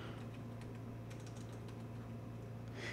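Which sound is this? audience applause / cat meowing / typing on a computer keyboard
typing on a computer keyboard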